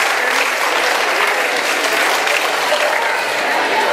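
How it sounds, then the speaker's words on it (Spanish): An audience bursts into loud, dense applause at a roof inauguration ceremony, sustained clapping close and unbroken for the whole stretch. "Fuerte el aplauso"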